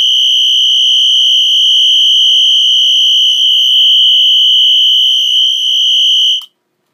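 A Wheelock Exceder fire alarm strobe sounds on continuous, a loud, piercing, unbroken high electronic tone that holds for about six seconds and then cuts off abruptly.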